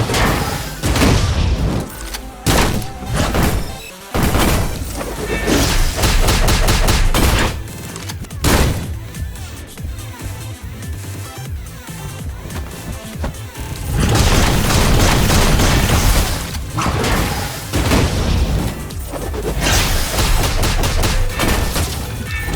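Gunfire in the video game Punishing Gray Raven: loud, dense bursts of rapid shots and heavy booms in several waves, with short pauses between volleys and a sustained barrage near the end, no talking.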